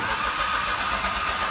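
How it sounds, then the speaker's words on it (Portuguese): A Smart Fortwo engine cranks and runs with a steady, loud mechanical roar. The car has just had its empty radiator filled, and engine compression is leaking into the cooling system. "Dá a partida aí, Roger."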